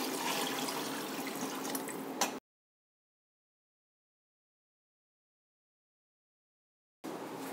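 Water poured into a pot of rice for chicken mandi biryani, a steady close pouring rush for about two seconds, then silence, and the pouring resumes briefly at the end.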